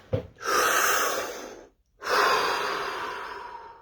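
Two deep, slow breaths, each a long airy inhale or exhale lasting over a second, separated by a short silent pause, close and clear with no talking, taken during a stillness exercise.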